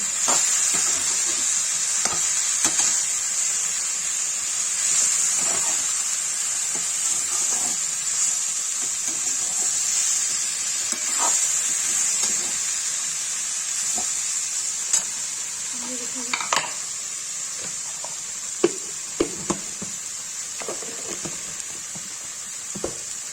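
Cauliflower and potato sabzi with turmeric and red chilli sizzles steadily in a pan, close and continuous, with repeated scraping and clinking of a spoon stirring the vegetables and faint talk in the background.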